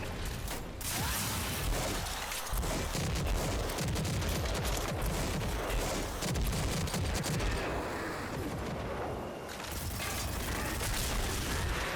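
Rocket launcher fire in Rage 2 blasts in a dense barrage, heavy booms and crackling gunfire packed back to back, loud and nearly continuous with brief dips.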